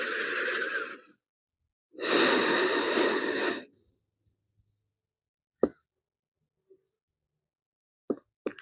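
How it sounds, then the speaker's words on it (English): Slow, deep breaths during a yoga pose: a long airy inhale or exhale, a pause, then a second longer breath, close and clear, followed by quiet with a few faint soft clicks. "Take 2 breaths here."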